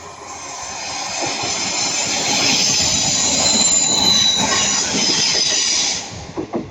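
A Class 156 diesel multiple unit, number 156417, passes at Ardwick with a loud, sustained rumble, rhythmic wheel clatter and squealing wheels, then fades out at the end.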